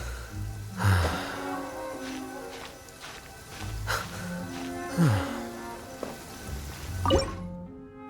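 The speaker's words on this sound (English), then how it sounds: "It's raining." Rain falling in the video game Genshin Impact, heard as soft steady dripping and splashing with scattered louder drops and faint footsteps, fairly quiet throughout.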